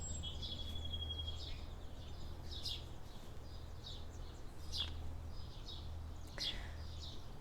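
Birds chirp outdoors among flowers in short, high, scattered calls and quick trills spread across the clip, faint and somewhat distant over a low steady hum.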